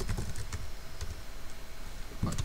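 Fingers tapping out a password on a computer keyboard, a short run of soft, irregular keystrokes close by, with a quiet pause in the middle before a final few taps.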